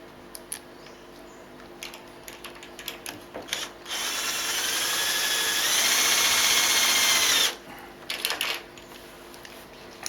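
A power drill drives self-drilling, self-tapping screws while fitting doors in a workshop: a few short clicks and handling knocks, then one sustained whirring burst of about three and a half seconds, then more clicks.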